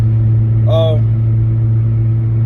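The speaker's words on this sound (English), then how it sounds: "excuse the loud pipes in my car" A car engine idles with a low, heavy drone from loud exhaust pipes, steady throughout, while someone speaks briefly over it.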